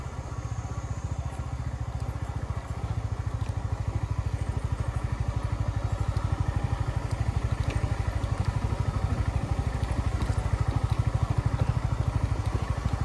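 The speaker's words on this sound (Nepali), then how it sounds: "बाइकले कति दुःख होला यार।" A motorcycle rides along a rough, uneven road, its engine pulsing steadily and loudly throughout with rattling clatter from the bumpy surface, no talk.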